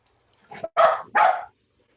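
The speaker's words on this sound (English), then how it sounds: "And that's the dog that you see here in the background." A dog barks in the background, three short yelps in quick succession at moderate distance, with no one talking over them.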